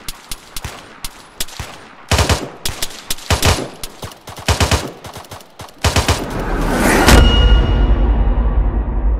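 Bursts of machine-gun and rifle fire during a military patrol ambush, sharp loud cracks in rapid irregular volleys, some near and some echoing, ending in a sustained roar of continuous fire.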